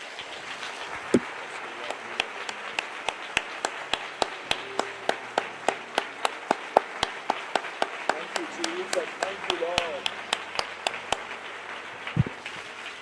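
A church congregation in Indore claps together in steady, rhythmic applause, a sustained run of sharp, evenly spaced claps filling the room at moderate loudness, with a few louder hits near the end.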